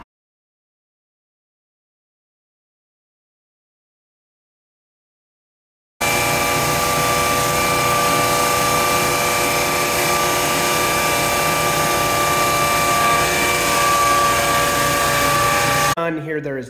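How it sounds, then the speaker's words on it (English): A drum sander runs over century-old fir flooring, a loud steady motor roar with a constant whine that starts abruptly after several seconds of silence and holds evenly for about ten seconds before cutting off. "So we have a drum sander. We're going to get going on these floors."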